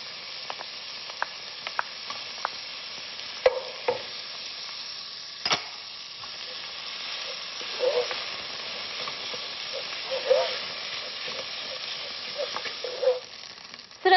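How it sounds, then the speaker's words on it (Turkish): Minced meat browns, sizzling and crackling steadily in a hot pan for Yerköy soup, with occasional scraping clinks of a utensil stirring it. "Hepsini beraber kıyma böyle kum gibi olana kadar kavuruyorum."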